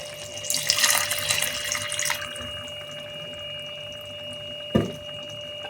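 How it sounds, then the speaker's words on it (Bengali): Hot water poured from a tap-like stream into a pan of braised chicken, a bright splashing pour for about two seconds that fades to quiet simmering, then a short knock near the end. "এবার আমি এর মধ্যে একটু গরম জল অল্প দেব।"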